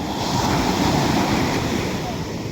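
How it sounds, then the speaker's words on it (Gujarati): Sea waves wash onto the shore at Porbandar in a loud, continuous roar of surf, with wind buffeting the microphone throughout. "તો આપણે દરિયા કાંઠે આવ્યા"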